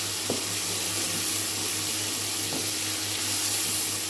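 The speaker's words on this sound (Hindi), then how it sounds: "अब हम इसे अच्छी तरह भूनेंगे।" Spices and tomato paste frying in a pan for mash dal, a continuous close sizzle with a low steady hum beneath and a couple of faint knocks, no talking.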